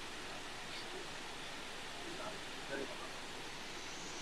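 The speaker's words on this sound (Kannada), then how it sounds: "ನೋಡಿ ಬೆಟ್ಟದಿಂದ ಹರ್ಕೊಂಡ್ಬರುವಂತಹ ನೀರು" A waterfall tumbles down a hillside inside a Coorg coffee estate, giving a faint, steady, even rush of falling water heard from some distance with no clear break.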